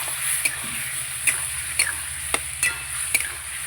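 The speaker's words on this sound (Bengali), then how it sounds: "মশলার সঙ্গে আলু খুব সুন্দর করে কষাবো" Potatoes fry with turmeric, salt and ground spices in a pan for a shol fish curry, a steady close sizzle broken by regular sharp clicks of a spatula scraping and stirring, roughly every half second, with no talk.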